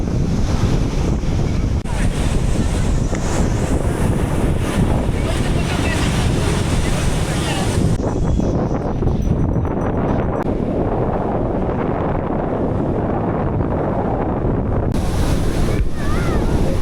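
Harsh sea waves surge and crash continuously at Puri beach while strong wind buffets the microphone, a loud, dense roar throughout.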